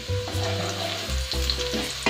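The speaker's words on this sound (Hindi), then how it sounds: "लहसुन को 1 से 2 मिनट फ्राई करेंगे हम।" Finely chopped garlic frying in about three tablespoons of oil in a pan, a steady close sizzle with brief stirring scrapes and no voices.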